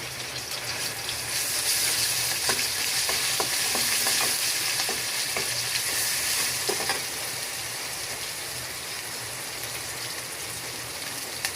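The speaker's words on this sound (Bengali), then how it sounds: "এবার তেলটা গরম হয়ে এলে আমি দিয়ে দেবো রসুন বাটা" Garlic paste frying in hot oil in a pan, a loud continuous sizzle with light stirring clicks, close and unbroken, no one talking.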